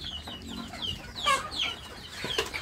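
Free-range village chickens kept for laying, clucking and calling in short bursts at moderate distance, with a few sharper squawks standing out over a soft outdoor background.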